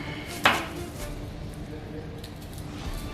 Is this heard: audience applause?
no